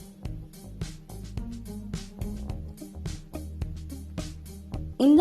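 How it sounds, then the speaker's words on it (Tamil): Moong dal fries in hot oil for a crispy snack, with faint, steady crackling and popping under a low hum, and a louder clatter right at the end. "பொரியற சத்தம் வந்துட்டு ரொம்ப நல்லா கேட்கும் உங்களுக்கு."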